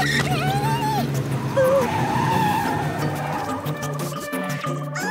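Cartoon car wheels skid out of control in the Car City World app game, a continuous loud squealing skid with engine-like tones and playful sound effects lasting throughout.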